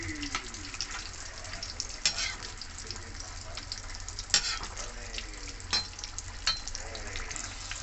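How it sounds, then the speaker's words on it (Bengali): Pumpkin fritters (kumro pakora) fry steadily in hot oil, a constant close sizzle and crackle with a few sharper spatters and scrapes of stirring, no talk. "সবগুলো কুমড়ি আমার ভাজা হয়ে গেল"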